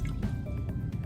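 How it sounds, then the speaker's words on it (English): Potassium bromate solution in water is poured into a beaker in a lab, a close, brief stream of liquid with small drips and splashes. "and we're going to add that to our beaker"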